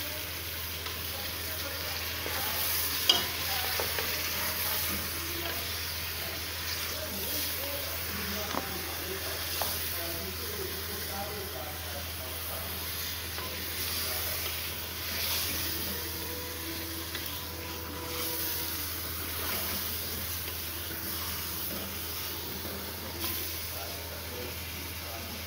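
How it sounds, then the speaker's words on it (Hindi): Garlic paste fries with beef in a pot for beef haleem, a steady close sizzle and hiss with occasional faint stirring scrapes throughout. "अभी मैं लहसुन इसमें ऐड कर दूँगी और लहसुन के साथ इसकी 3 से 4 मिनट के लिए भुनाई"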